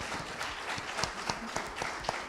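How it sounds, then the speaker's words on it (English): An audience applauding panelists at an art and business symposium, a dense steady patter of many hands clapping, moderately quiet and heard from a distance. "Let's please give them a warm round of applause for their time"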